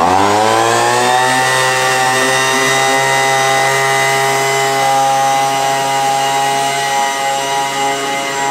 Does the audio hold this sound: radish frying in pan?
no